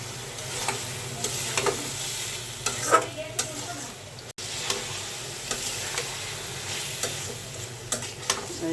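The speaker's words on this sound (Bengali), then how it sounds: "এবার আমি কলিজাটা দিলাম" Beef liver frying with garam masala and spices: a steady low sizzle under repeated scraping and stirring strokes of a spatula, spaced irregularly and fairly close.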